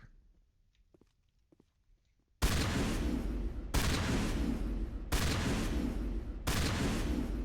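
Weapon fire in Mass Effect while fighting geth on Feros: after a near-silent opening, four long sustained bursts of loud, noisy blasts follow one after another with brief gaps between them.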